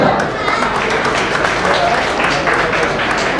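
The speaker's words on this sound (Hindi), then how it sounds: "और साहिबाना तालियों से नवाजे यार" A crowd at a Memon Jamat prize-distribution ceremony in Surat claps steadily and densely throughout, with a continuous wash of applause and no break.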